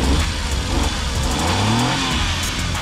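A Mazda Scram mini van (DG17V) engine running close by, with a steady idle rising into a couple of revs and a continuous mid-pitched mechanical drone throughout.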